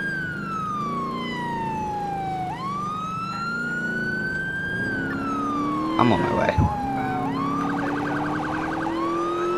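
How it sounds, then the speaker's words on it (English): An ambulance siren in the video game GTA IV wails in long rising and falling sweeps, loud and close, briefly switching to a faster yelp near the end; someone speaks briefly over it. "Ambulance! That's the only thing that responds out here, the ambulances."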